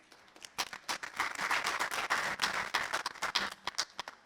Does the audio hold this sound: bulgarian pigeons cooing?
no